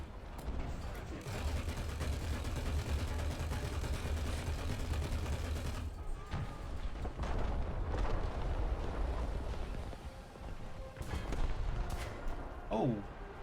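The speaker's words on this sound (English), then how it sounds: "So the enemy's called in some mortar fire." Mortar fire in War Thunder lands as heavy, rumbling explosions within dense battlefield noise, with a louder blast partway through and a voice talking over the din.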